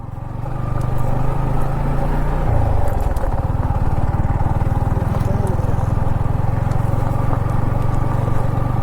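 Motorcycle ridden outdoors near a river picnic spot, a steady low engine drone that shifts pitch early on, with wind rumble and a faint voice in the background.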